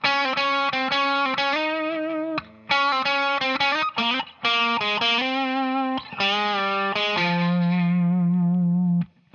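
A distorted electric guitar plays a quick melodic solo run of sustained, bright notes with a chorus-like shimmer over a song, ending on a long held tone.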